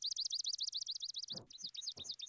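Recorded bird song made of rapidly repeated high chirping notes trills steadily, broken by a few lower, breathy noises.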